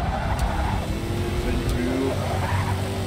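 Race car engine in Forza Motorsport 6 on PC, revving and accelerating along a straight with steady rising engine tones and some tire noise, loud and continuous under someone talking.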